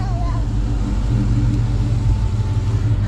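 A Coyote-swapped Ford SVT Cobra Mustang idles and rumbles nearby with a deep, loud, steady engine burble, while people talk over it.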